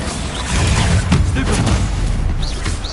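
Confringo explosive spell blasts in the video game Hogwarts Legacy, loud booming bursts layered with crackling debris and magic effects, continuous heavy game noise with a few whooshing chimes near the end.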